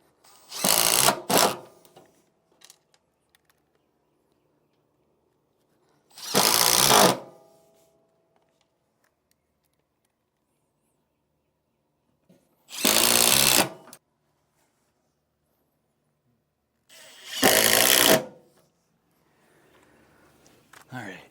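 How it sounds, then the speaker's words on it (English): A power drill drives screws into the slotted mounting holes of MORryde StepAbove RV steps on a 2018 K-Z Connect travel trailer, with four loud whirring bursts of about a second each spread across the stretch, separated by near silence. "Now I would shoot your screws into the center of the slotted holes"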